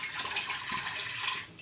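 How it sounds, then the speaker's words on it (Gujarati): Water pours in a steady, close, rushing stream into a pressure cooker to boil fenugreek leaves, then tapers off at the end. "એમાં આપણે પાણી નાખશું"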